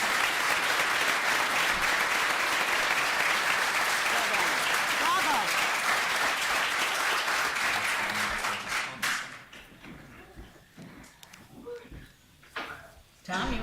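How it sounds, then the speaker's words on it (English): An audience at a 2017 University of Virginia versus Yale mock trial competition claps loudly and continuously for about nine seconds. The applause then thins and fades, leaving scattered claps and faint talk. "And they were applauding."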